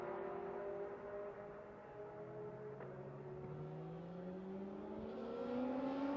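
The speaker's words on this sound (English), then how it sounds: "the driver is able to limp back onto the racetrack on just 3 wheels." A damaged race car limps back onto the racetrack on three wheels, its engine droning and slowly rising in pitch, moderately close and alone.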